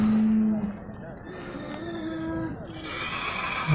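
A horse gives a loud, drawn-out neigh at the start, followed by murmuring voices and general outdoor bustle.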